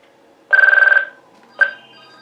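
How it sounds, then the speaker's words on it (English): An indoor telephone rings with a loud, trilling electronic burst of about half a second, followed after a short pause by the start of a second ring that cuts off quickly. "the phone rings"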